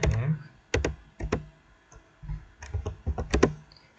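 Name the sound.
typing a command on a computer keyboard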